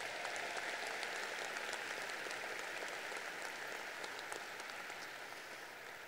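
Steady applause from a high school graduation audience in 2023 honoring two students, a dense even patter of many hands that eases slightly toward the end.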